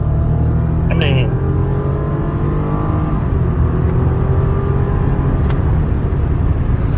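A 2007-era Lexus ES350 with nearly 200,000 miles is floored at full throttle, the engine rising in a smooth steady pull heard from inside the car, with road noise beneath and someone speaking over it.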